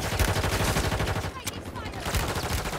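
Dense automatic gunfire in an online shooter game, a steady rapid rattle of shots running the whole stretch at close range, with voices talking over it.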